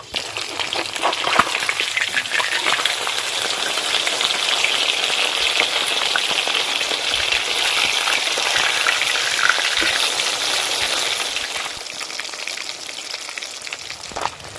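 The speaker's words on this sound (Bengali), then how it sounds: "মাছের এক পিঠ ভাজা হয়ে গেছে, এবার মাছগুলো উল্টে দেব" Bhola fish pieces, just flipped, sizzle and crackle steadily in hot mustard oil in a pan, a loud continuous frying hiss with small pops throughout, no voices.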